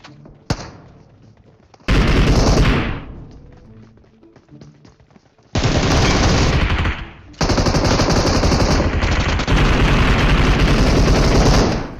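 Gunfire from shooting enemies in the BGMI mobile battle royale game: a sharp shot, then long loud bursts of rapid automatic fire broken by short pauses, close and dominant with no talking.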